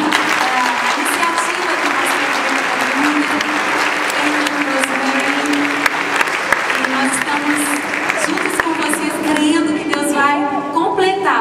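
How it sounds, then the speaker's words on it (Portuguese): A church congregation in London bursts into sustained, loud applause that stays full and even, with speech and a few voices rising over it toward the end. "Let's clap our hands, vamos aplaudir"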